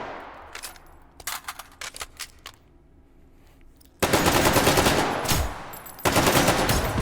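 Video game gunfire in the VR shooter H3VR, first scattered sharp shots, then sustained near-continuous automatic fire in two long loud bursts with a brief gap between.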